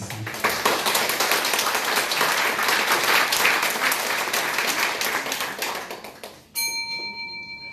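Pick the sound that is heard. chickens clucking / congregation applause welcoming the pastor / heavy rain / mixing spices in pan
congregation applause welcoming the pastor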